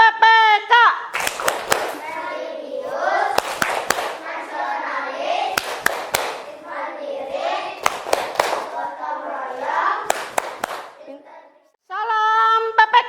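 Indonesian school students in a classroom perform the Tepuk PPK clapping chant: bursts of sharp, rhythmic hand claps interleaved with children's chanted voices, close and fairly loud, with a teacher's voice speaking just before and after.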